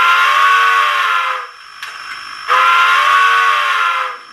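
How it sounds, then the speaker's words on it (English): A steam whistle from a Soundtraxx Tsunami2 decoder fitted in a brass 2-10-0 model sounds two long, loud, hissy blasts separated by a short pause. No voices are heard. "there's our horn"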